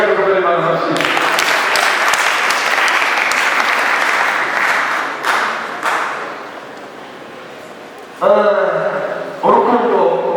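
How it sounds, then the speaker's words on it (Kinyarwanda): Loud, sustained applause from a congregation at a church wedding service, lasting several seconds before fading, then broken by short bursts of speech near the end. "Reka dukomere Imana amashyi."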